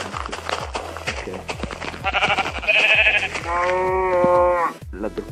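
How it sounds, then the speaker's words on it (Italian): Sheep bleat repeatedly in Minecraft Pocket Edition, several loud close calls over game music and ambient sounds, including a long sustained bleat near the end. "ora andiamo a chiudere l'ultima pecora"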